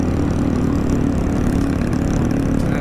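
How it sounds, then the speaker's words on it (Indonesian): A supermoto motorcycle engine runs at low speed with a loud, steady, rough rattling drone up close, no voices over it. "Motornya nggak bisa pelan ini, merepet ya."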